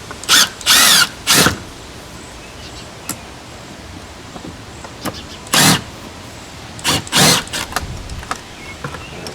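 A cordless driver takes Phillips screws out of an outdoor wall light, loud short bursts of high whirring in pairs and clusters, separated by quiet pauses with small clicks, close by.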